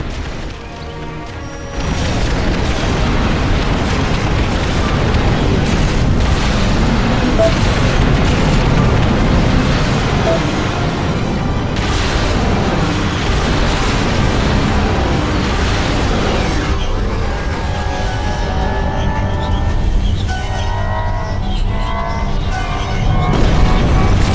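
Explosions rumble continuously as an enemy nexus is destroyed in the strategy game Ashes of the Singularity, with deep, loud booms and crashes sustained over about twenty seconds, rising after a quiet start.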